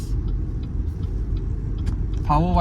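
A BYD Sealion 7 Performance all-wheel-drive electric car accelerating harder makes a steady low road and cabin rumble from inside, with a brief rising tonal whine near the end.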